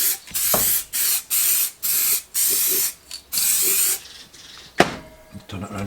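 Short repeated bursts of a spray gun laying a light mist coat of paint on restored motorcycle parts, each hiss lasting about half a second with brief gaps, close and fairly loud, followed by quieter handling noises.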